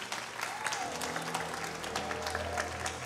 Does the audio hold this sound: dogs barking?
no